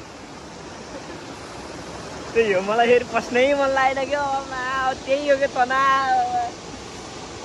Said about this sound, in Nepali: खोलाको साउन्ड इको आइरहेको ल